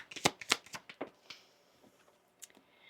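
An oracle card deck shuffled by hand, a quick run of crisp riffling slaps and flutters, close and fairly quiet, tapering off into a few soft card taps.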